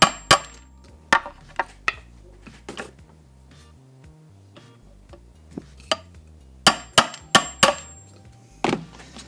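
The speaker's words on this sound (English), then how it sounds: "we will split the logs into quarters and make our wood pile. I just use a chisel and a hammer," Hammer striking a chisel to split small branch logs into quarters for a miniature woodpile: sharp, close wooden knocks arriving in irregular bursts, some single and some in quick clusters, with brief quiet gaps between.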